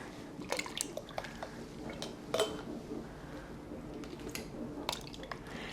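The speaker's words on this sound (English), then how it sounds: "We're gonna go pack the jars with peaches." Poached peaches are spooned into glass jars, making wet squishes, drips and light clinks of a utensil against glass at an irregular pace, close and fairly quiet.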